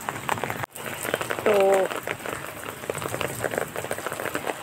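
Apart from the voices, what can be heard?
heavy rain falling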